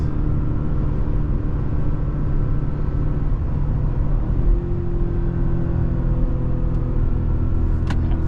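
A 2022 Porsche Cayenne driving with its engine giving a steady, loud low rumble inside the cabin, and a slight change in pitch midway as a gear shifts.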